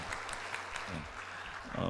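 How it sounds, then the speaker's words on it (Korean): A church congregation at a Sunday Epiphany worship service applauds in blessing of an accompanist, a brief patter of clapping mixed with low voices and a rising burst near the end. "박수로 축복해 주겠습니다"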